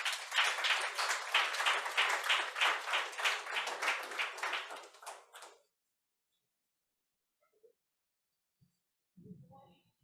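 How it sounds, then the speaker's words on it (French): Audience applause welcoming a performer on stage at a live comedy evening in Sherbrooke, a dense, loud burst of clapping that fades out after about five seconds, followed by near silence and a faint murmur. "une bonne main d'applaudissement pour Jorge."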